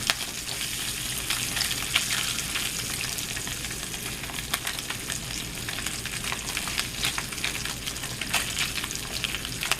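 Slices of Spam fry in a pan, crackling and sizzling continuously with scattered sharp pops of hot fat, close up and steady for the whole stretch.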